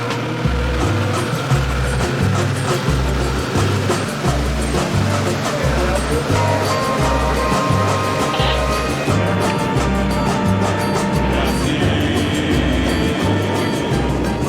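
A tour boat carrying about twenty people speeds across a rough, rain-swollen river toward Iguazu Falls, its engine droning steadily and loudly under rushing wind and water throughout.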